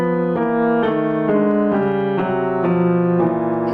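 Smooth connected piano notes step steadily downward in a chromatic line, about seven even strikes blending into one another, clear and close.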